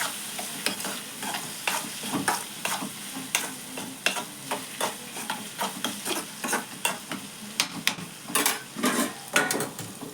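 Ridge gourd curry frying in a pan, stirred with repeated scraping and clattering strokes over a constant sizzle, close and fairly loud.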